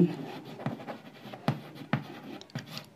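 Chalk or marker scratching out notes on a board in short, uneven strokes with small taps, close and fairly quiet, with no talking.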